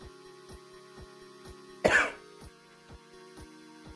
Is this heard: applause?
no